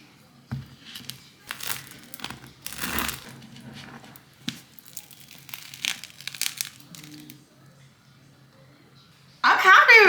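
A knife saws through a homemade loaf of bread, crinkly crunching strokes recurring across the clip at moderate closeness, with a louder burst of crackling at the end.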